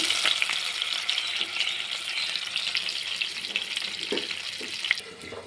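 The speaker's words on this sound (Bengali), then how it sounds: "এবার আমি বাকি মাছগুলোকে ভেজে নেব।" Remaining pieces of boal fish frying in oil, a steady close hiss of crackling fat with a few louder pops near the end, no voices.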